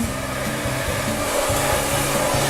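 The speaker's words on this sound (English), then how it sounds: "I'm going to take it and just push all the hair forward with the blow dryer" A handheld blow dryer runs steadily at close range as it pushes short hair forward, a continuous loud airy whoosh with a low motor hum and no speech.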